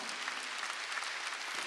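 A church congregation claps together during a Sunday worship service, a dense steady wash of applause filling the room for the whole stretch, with no voices over it.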